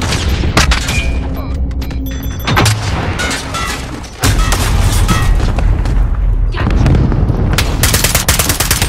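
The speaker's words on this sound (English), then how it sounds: "Enemy cruise missile incoming." Loud, dense battle din in Call of Duty Modern Warfare during an incoming cruise missile strike: rapid gunfire and booming blasts fill the whole clip, with a brief drop at mid-point before a heavy, sustained explosive roar takes over.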